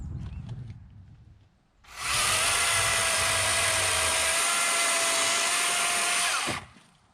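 DeWalt 60V Flexvolt brushless chainsaw cutting through wood, a loud high-pitched whine that rises suddenly, holds steady for several seconds, then cuts off.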